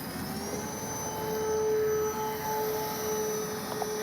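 An Avios Bush Mule V2 RC bush plane on its maiden flight throttles up for takeoff with flaps set, its electric motor a rising whine that swells and holds, fairly near, over outdoor background noise.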